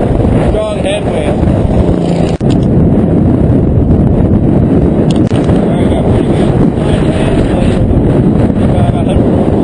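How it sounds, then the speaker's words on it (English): Strong headwind buffets the microphone during a group road-cycling ride between Livermore and Pleasanton, a loud, continuous roaring rumble that persists throughout. "Strong headwind."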